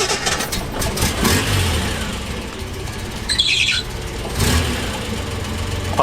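A Reliant car engine with a slipping drive belt, running close by with a steady mid-range drone, a brief squealing chirp of the belt partway through, and small rises and falls in revs.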